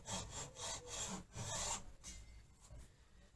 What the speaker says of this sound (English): During the sawing process, I'll probably have to move the clamps around a little bit, or move the block around